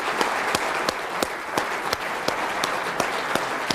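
An audience applauds a departing speaker named Martin at a trading-tactics seminar, with a dense, steady roar of many hands and a few sharper individual claps standing out throughout.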